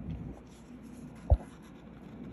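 A knife scraping old foam gunk off the outer edge of a JBL Mark Levinson speaker from a Lexus GX470, a faint brief scratching with one short sharp scrape standing out.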